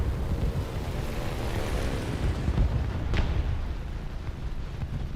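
Continuous heavy rumble of cannon fire and explosions in the vehicle combat game War Thunder, a dense, roaring wash with a brief sharp crack partway through and no speech.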